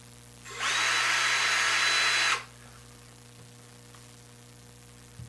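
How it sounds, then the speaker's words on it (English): A corded electric power drill whirs at high speed in one continuous burst of about two seconds, loud over a constant background mains hum, then stops. "First things first, we'll pick up a drill."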